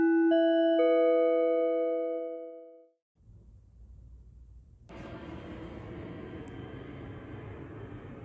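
An airplane passes overhead at 6:09 in the morning as a steady, fairly faint broadband drone that follows a fading chime-like tone and grows fuller partway through, with no talking.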